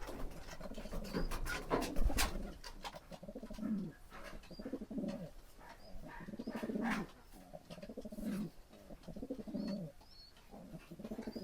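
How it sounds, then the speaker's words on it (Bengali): Shiraji pigeons coo in repeated low, throaty phrases, close by, with some soft bird calls scattered between them. "সিরাজের কবুতর একটু কম ডাক দেয়"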